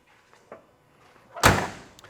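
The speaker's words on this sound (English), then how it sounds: "Door closes nice." A single solid car door thump from a 1970 Chevrolet Chevelle SS396, loud and close, preceded by a few faint small clicks and ringing out briefly afterward.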